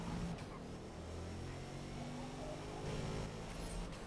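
Car engine droning steadily in the racing video game Forza, a sustained humming tone that rises slightly in pitch, moderately loud and continuous with no break.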